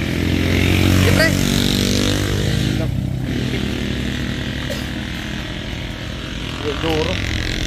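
A motorcycle engine revs and drones close by, rising and falling, with people talking over it.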